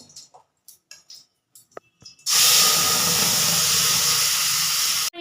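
Ginger, garlic, onion and tomato paste dropped into hot oil in a kadai, a sudden loud burst of sizzling that hisses steadily after a few light taps.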